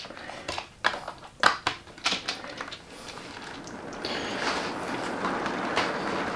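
A model railway train rolls along the track with light clicking and clattering at first, then settles into a steady soft rumble, close and fairly quiet.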